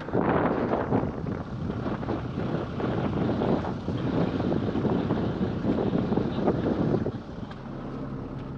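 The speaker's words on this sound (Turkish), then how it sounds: "Burası güzel esiyor da." Wind gusts across an outdoor picnic area in Konya, a steady rough buffeting rumble hitting the microphone throughout, easing slightly near the end.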